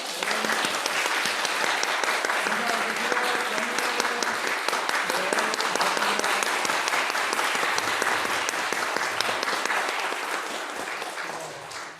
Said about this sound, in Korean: 박수로 우리 수아.